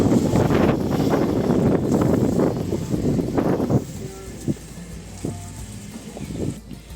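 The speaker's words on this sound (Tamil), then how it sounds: "காற்று பயங்கரமாக வீசுது." Strong wind roars and buffets against the microphone for several seconds in a home garden, then eases into lighter gusts with faint scattered sounds behind it.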